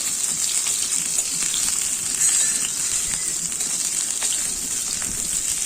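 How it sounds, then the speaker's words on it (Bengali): Pieces of pointed gourd fry in hot mustard oil with a steady, close, bright sizzle that runs the whole time, with a few soft crackles and no talking. "সরষে তেলটা গরম হয়ে গেলে ওতে আমি পটলগুলো ভেজে নেব।"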